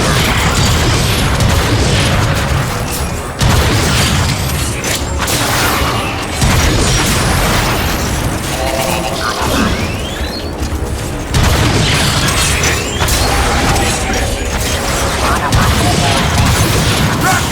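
In the Transformers: Fall of Cybertron video game, sniper shots and explosions ring out as heavy booms, bursts and mechanical clanks that recur through a busy battle mix, with voices talking over parts of it.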